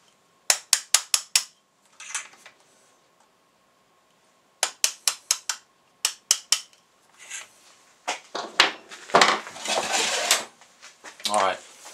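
Several quick bursts of sharp metallic taps from a hammer on a punch driving out pins on a Kel-Tec RFB rifle, in short rapid runs separated by pauses, followed by clattering handling noises and rustling near the end.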